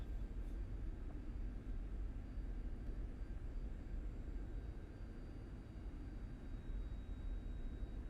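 A steady, unbroken roar from the jet engines of a Cessna Citation S550 in the X-Plane 11 flight simulator holds at an even level throughout, with no talk over it.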